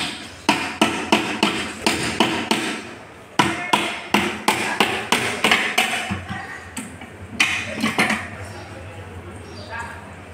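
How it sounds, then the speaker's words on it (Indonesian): A rubber mallet raps repeatedly on a manual five-speed transmission case from a Toyota Avanza during an overhaul, landing a rapid series of sharp, close knocks in bursts with short pauses, while someone talks between the strikes. "kita pukul menggunakan palu karet sambil kita gerakkan ke atas."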